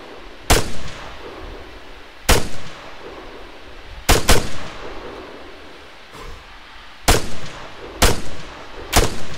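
Gunfire in the military shooter Arma 3 comes as six sharp, loud bursts spaced a second or two apart, each a hard crack with a rolling echoing tail, some arriving in quick pairs.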